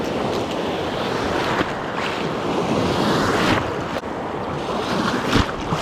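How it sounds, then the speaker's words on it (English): Ocean surf breaks steadily on a beach during surf fishing, a dense continuous wash of crashing waves mixed with gusting wind noise on the microphone and no talking. "the waves are thrashing"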